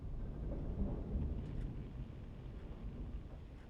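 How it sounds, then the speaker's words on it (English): Storm rumble in WILL: Follow The Light rolls along as a low, continuous thunder-like drone with windy noise, faint and steady throughout, without talk. "I think the storm's coming in."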